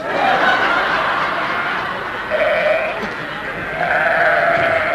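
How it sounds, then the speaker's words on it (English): Sheep bleat loudly and close by in a comedy sketch: several long, wavering bleats follow one another, with a short dip between them. "They've found the sheep."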